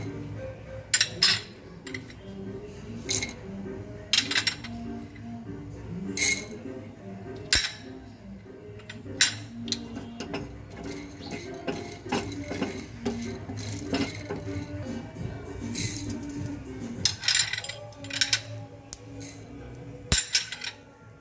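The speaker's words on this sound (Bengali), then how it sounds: "এবার ঠিক এর মধ্যেই আমি এক এক করে সব গোটা মশলাগুলো দিয়ে দিচ্ছি।" Whole spices drop one by one into a dry pan, making light scattered clinks and rattles at irregular intervals over a low background hum.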